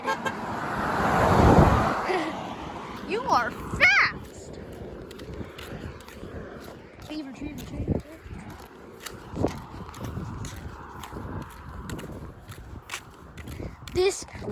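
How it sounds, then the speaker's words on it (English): A car horn toots on a street amid passing traffic and footsteps, with a person talking excitedly throughout and short honks sounding at a moderate distance. "This car honks."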